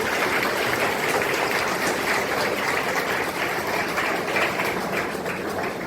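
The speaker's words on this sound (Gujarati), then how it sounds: "આપણે સૌ તેમનું તાળીઓથી સ્વાગત કરીએ" An audience at a centre for blind people claps to welcome a visiting family, producing a dense, continuous wash of applause that stays even and sustained throughout.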